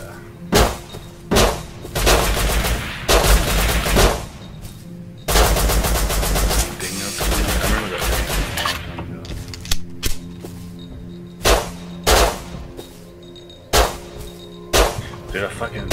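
Silenced gunfire in the Rust survival game comes as loud, close automatic bursts and single sharp shots in uneven clusters, with gaps between volleys.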